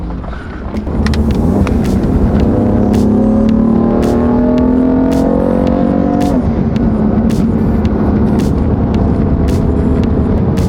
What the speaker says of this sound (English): Now this car doesn't have a 4N motor yet, but it still sounds all right.